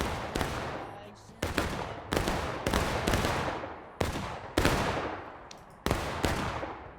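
Rifle shots from a Civil War battle in the Maryland Campaign video game, with about 250 players: around a dozen sharp, loud cracks fired at irregular intervals, each trailing off in a reverberant roll.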